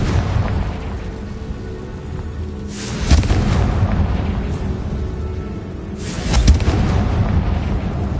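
Explosive spell blasts from the Hogwarts Legacy video game rumble over a dense, noisy fight backdrop. Two loud booming bursts arrive a few seconds apart, each swelling into a broad crackling roar before fading.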